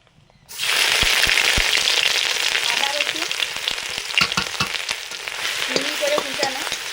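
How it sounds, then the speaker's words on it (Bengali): Chowmein stir-fried in a wok sizzles loudly and steadily, with a spatula scraping and clacking against the metal in irregular strokes; no one talks. "সব কিছু ভাজাভুজির পরে ফাইনালি চাউমিনটা শুরু হচ্ছি"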